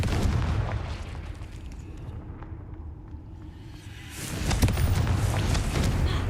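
The Confringo fire spell in the Hogwarts Legacy video game goes off as a single booming blast that erupts after a quieter lull, then rumbles on loudly to the end.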